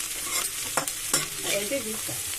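Bitter gourd fries in a pan under a continuous loud sizzle. A utensil scrapes and stirs through it with a few sharp, close strokes.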